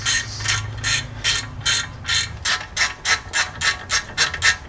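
Ratchet wrench tightening a front brake caliper bolt on a Jeep J10, giving a steady series of about a dozen crisp, close clicking strokes with no talk.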